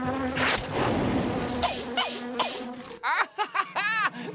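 A half-charred cartoon fly buzzes loudly and close, its drone rising and falling in swooping passes through an outdoor nature scene, ending in a string of short whining buzzes.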